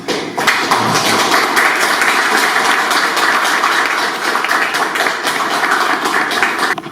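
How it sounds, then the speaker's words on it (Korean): An audience applauds to welcome the chairperson at a peace and unification academy lecture, a steady, dense patter of hand claps filling the room from start to finish. "큰 박수로 우리 이사장님 모시겠습니다"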